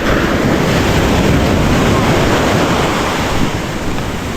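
Sea waves wash onto the shore with steady wind buffeting the microphone, a loud continuous roar of surf and gusts with no voices.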